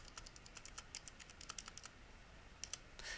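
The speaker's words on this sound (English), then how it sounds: "I can do that by either typing it in or using the F1 key on my keyboard" Typing on a computer keyboard during data entry in eTHOMAS software: a steady run of quick, light key clicks at close range, with brief pauses and a denser burst of keystrokes near the end.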